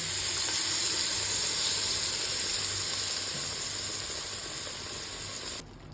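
Puréed tomato hits a hot pan of oil for a vegetable pasta sauce, giving a loud steady sizzling hiss that slowly fades and cuts off near the end.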